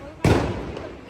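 A single Diwali firecracker bursts with a sharp, loud crack up close, the blast decaying into a brief rumbling tail in a city setting.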